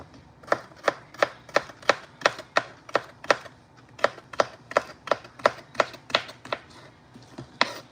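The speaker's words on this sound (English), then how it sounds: "I like chopping my stuff up, to be honest" A knife chops food on a cutting board in quick, regular strokes, about twenty sharp close taps with brief pauses, no talking.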